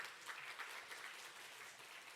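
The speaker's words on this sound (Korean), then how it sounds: "큰 박수로 환영해 주시기 바랍니다" Steady applause from a conference audience welcoming speakers, a dense wash of clapping that holds at an even, moderate level throughout with no voices on top.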